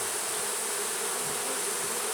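Honeybees buzz steadily and close during an inspection of a nuc hive, a dense continuous hum with no talking.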